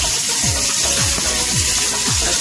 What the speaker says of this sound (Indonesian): minyaknya udah panas, masuk bawang merah, bawang putih tadi